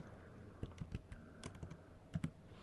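Number keys tapped on a computer keyboard while adjusting a wall-panel setting in interior design software: a quiet, uneven run of about a dozen light clicks in small clusters, close up, with no talking.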